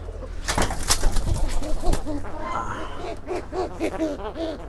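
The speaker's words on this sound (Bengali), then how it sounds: "এই কবুতরের সাথে জোড়া এই কবুতরটা" Pigeons in a cage, a paired male and female, coo close by in a steady run of repeated throaty calls that rise and fall, with a faint voice in the background.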